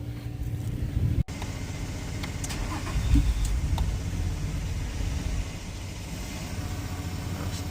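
A 2017 Nissan Quest minivan engine idles steadily after its fuel pump was replaced and bad gas cleaned out, a close, even low rumble with a sharp click early on and faint mechanical rattles throughout.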